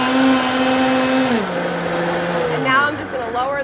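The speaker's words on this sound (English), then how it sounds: "And now we're gonna blend it." Countertop blender whirring through pineapple lemonade, a loud steady motor drone whose pitch drops as the load shifts, with a voice talking over the end.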